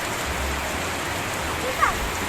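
Steady rain patters all around, dripping from trees, with a single brighter drip standing out near the end.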